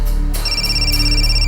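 A phone rings loudly and close, a steady electronic tone pulsing in repeated bursts with no talk over it.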